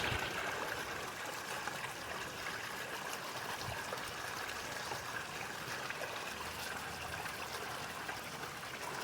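Water runs steadily through a cleared culvert in a constant, dense trickling rush, close and even throughout, with no voices.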